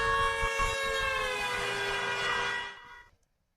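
A siren wails loudly at a sustained pitch and then cuts off quickly, leaving silence in the final half second.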